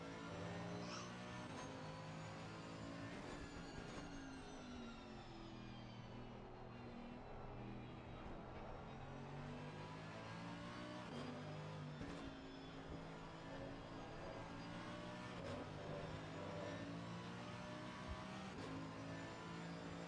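Mercedes-AMG GT3 race car engine roaring steadily throughout a racing sim game at Spa, loud and continuous with shifting revs and gear changes, no talk over it.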